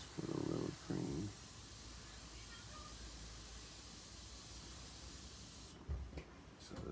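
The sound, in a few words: airbrush spraying green Angelus leather paint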